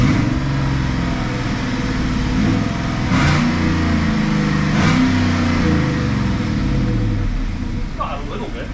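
A tuned 2020 Chevrolet Colorado V8 idles and revs in a few short blips, the engine rumbling close by while people talk over it.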